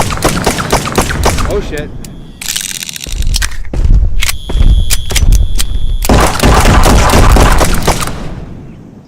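Pistol fire in Island 359, a VR dinosaur-hunting game, comes as sharp close shots among thuds, clanks and crunching impacts. A player curses briefly during the action.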